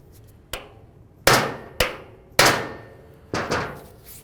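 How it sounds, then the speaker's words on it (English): A hammer strikes a punch on a bracket during timing belt work on a Dodge Journey, landing five sharp metallic hits in an uneven rhythm, close and clear, each ringing off briefly. "just take a hammer and a punch. We're going to carefully get in between this area and just try driving it down a tiny bit"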